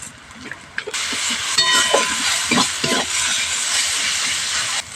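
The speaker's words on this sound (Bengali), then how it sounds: "আদা রসুন বাটাটা দিয়েও একটু ভালো করে ভাজা ভাজা করে নিচ্ছি" Ginger-garlic paste and ground spices fry in a pan with a steady broadband sizzle that swells after the first second, broken by a few soft stirring scrapes and knocks, close and continuous.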